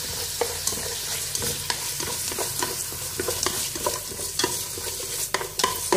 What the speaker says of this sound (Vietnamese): Đây mình có mỡ thì mình cho ít mỡ để mình xào lên với dưa.